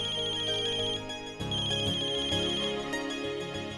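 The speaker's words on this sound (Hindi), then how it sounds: "हमेशा गलत टाइम पे बजता है ये फोन।" A phone ringtone plays loudly and continuously, a bright repeating electronic melody with steady rhythm and no voices.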